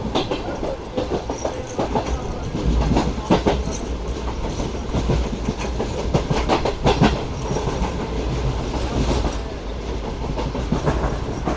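The Pak Business Express passenger train passes close by a curved station, a loud continuous rumble broken by steady clickety-clack wheel beats and occasional faint squeals, with no voices.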